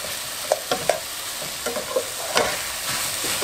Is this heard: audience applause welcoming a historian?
no